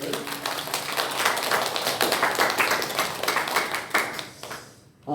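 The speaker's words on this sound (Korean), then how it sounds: "우리 귀한 말씀을 전해주신 우리 장병욱 목사님께 다시 한 번 더 감사의 박수를" A church congregation applauds in thanks after a pastor's sermon at a mission report worship service. The clapping is steady and fairly close, then trails off near the end.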